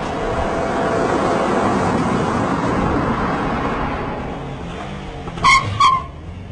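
A 2008 Subaru WRX with a turbocharged 2.5-liter flat-four launches hard, giving a loud, steady roar of engine and tires that builds and then holds, with a couple of brief sharp squeals near the end.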